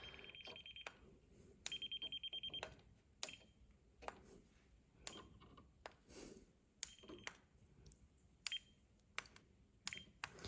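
A handheld voltage tester held against a live black wire while fitting a TREATLIFE 3-way smart dimmer switch, giving several short bursts of rapid high electronic beeping with gaps between, close and fairly quiet.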